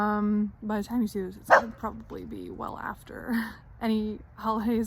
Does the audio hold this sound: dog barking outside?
yes